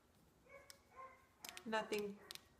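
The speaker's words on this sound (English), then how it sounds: "if you can hear those dogs barking, those are my neighbor's dogs." A few sharp dog barks from a short distance away, two or three brief bursts separated by quiet gaps.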